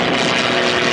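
Propeller-driven aircraft droning steadily overhead, a Soviet biplane pursued by a German fighter in an airshow re-enactment of aerial combat, a continuous loud broadband engine roar with no talk.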